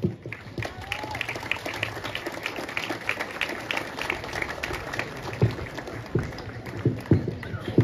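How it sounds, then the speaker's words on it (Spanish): Crowd applause for former students at an outdoor school anniversary civic parade in Chilete, Peru, a sustained patter of clapping with scattered sharper claps throughout. "un aplauso para todos esos exalumnos que han venido el día de hoy"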